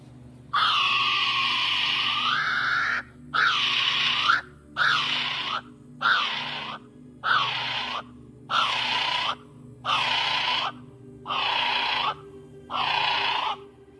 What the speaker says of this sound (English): The kiwi raises its head and lets out a cry